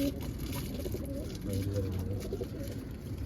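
Young pigeons coo softly and continuously in a loft, with low murmuring calls under a constant background hum and faint indistinct voices.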